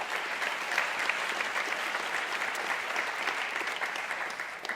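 Steady applause from a forum audience for a guest speaker, dense and even throughout, with no voices over it.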